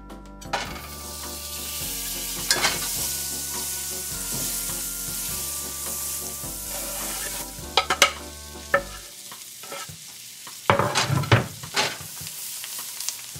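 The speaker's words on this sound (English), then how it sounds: "Now we got some butter and garlic in the pan." Butter and garlic sizzle steadily in a pan while a utensil stirs and scrapes, with a few sharp clinks, before the frying quiets near the end.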